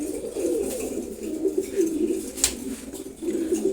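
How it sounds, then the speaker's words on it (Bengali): A pair of racing pigeons coos steadily at close range, soft low murmuring calls rolling on without pause. "রেসার কবুতর জোড়া"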